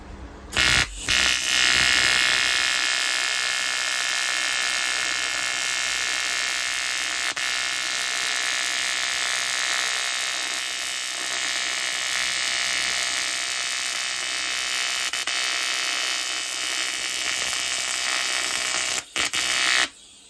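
A TIG welder arc welds aluminum with a continuous harsh buzzing hiss that holds steady for about twenty seconds and cuts out sharply at the start and near the end.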